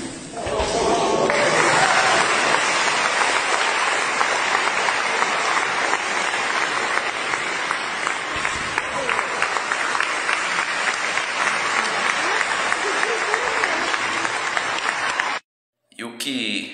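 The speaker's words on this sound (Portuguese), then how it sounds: "as pessoas aplaudiram isso" Sustained, loud applause from a church congregation fills the whole stretch, a dense crowd clapping without pause before cutting off abruptly near the end.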